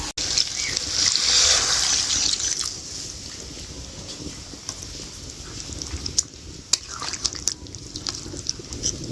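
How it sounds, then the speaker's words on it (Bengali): Stock pours into a pot of browned mutton and fried potatoes for a Bengali mutton curry, a close, steady liquid rush for about two seconds that settles into quieter bubbling and drips with a few clinks. "মাংসের মধ্যে স্টকটা দিয়ে দিয়েছি"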